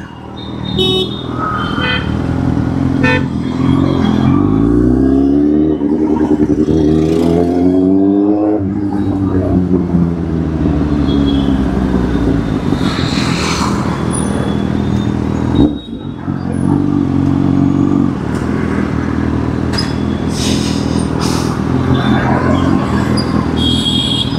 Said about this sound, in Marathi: केवढ्या लांबपर्यंत ट्रॅफिक आहे बाई.